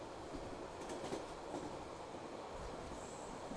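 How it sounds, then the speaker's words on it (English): A Transcoastal train runs along rails in New Zealand, a steady close rumble of wheels and carriages with faint rhythmic clatter throughout and no voices. "Once in Picton, it's on to the Transcoastal, truly a train that lives up to its name."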